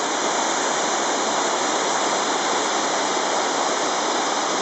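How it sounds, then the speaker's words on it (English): Waterfall in Crawfordsburn Country Park swollen after heavy rain, a loud, constant rushing roar of falling water heard close up with no voices. "And this is the waterfall in Crawfordsburn Country Park."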